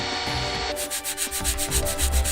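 Wood being sanded in a home workshop, a steady rhythmic rasping scrape repeating in close strokes, loud and near with no voices.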